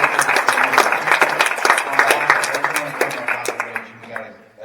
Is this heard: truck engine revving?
no